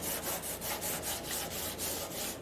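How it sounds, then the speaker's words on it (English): A sanding block rubs back and forth along a body edge of a 1963 Chevrolet Impala in quick, even, faint scraping strokes. "that's definitely the tool to sand these edges with"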